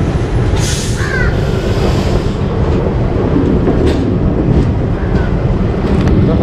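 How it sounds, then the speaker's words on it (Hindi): A WDM7 diesel locomotive sits on shunting duty at a Chennai station, its engine a continuous low rumble under station ambience and wind noise, with faint brief tones above. "पीछे खड़ा हुआ है हमारे लोकोमोटिव जो कि शंटिंग ड्यूटी पे है, तो ये है WDM7 नंबर 1104।"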